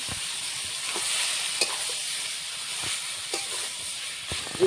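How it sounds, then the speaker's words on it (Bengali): Panch phoron spices are stirred in a little hot oil for an olive pickle, making a bright, hissing sizzle with occasional light scraping ticks from stirring, close and continuous. "দেব পাঁচফোড়ন, ভালো করে নেড়ে নেব"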